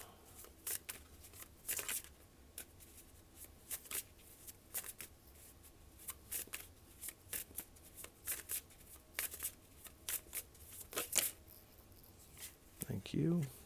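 Tarot cards riffled and shuffled over and over in a quiet room, a run of crisp papery flutters and slaps at irregular intervals, close and moderately loud, with a brief thump near the end.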